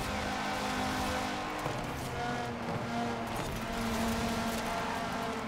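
A race car in Forza Horizon 4 drives at speed, its engine droning steadily with pitch slowly rising and falling under constant road and tire noise.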